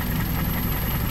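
A car engine idles with a cylinder misfire, a close, steady low rumble with an uneven, faintly knocking pulse and no voices.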